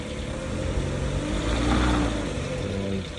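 An auction car's engine running after being put in gear, a steady close mid-pitched hum with faint harmonic tones that swell slightly midway, no talk.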